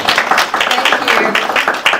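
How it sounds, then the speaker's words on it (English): Audience applause at a talk on a near-death experience, steady clapping from a room of people that runs throughout, with voices mixed in. "Let's clap and tell her how much we love her."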